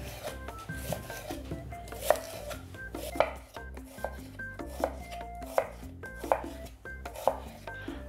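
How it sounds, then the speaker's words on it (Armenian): A knife chops two small onions into thin half-moon slices on a board, the steady, crisp knocks repeating every half second or so over soft background music. "Վերցնում ենք երկու գլուխ, փոքր, սոխ, և կտրատում ենք, ինչպես միշտ, փետրաձև"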